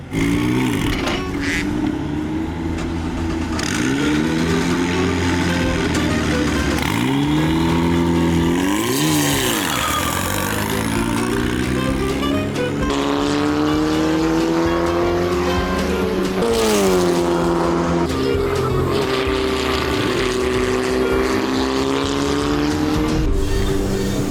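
A race car laps a track at the GP Explorer event, its engine loud and continuous with rising and falling revs through repeated gear changes and occasional tire squeal, no talking over it.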